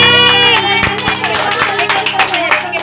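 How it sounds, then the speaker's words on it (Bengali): Party guests clap together at a five-year-old's birthday celebration, a quick, dense patter of hand claps close by with voices mixed in throughout. "হাততালি হাততালি সবাই, হাততালি"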